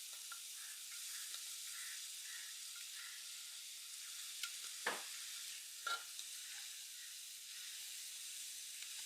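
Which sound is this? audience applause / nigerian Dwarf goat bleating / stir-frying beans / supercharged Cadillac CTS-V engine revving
stir-frying beans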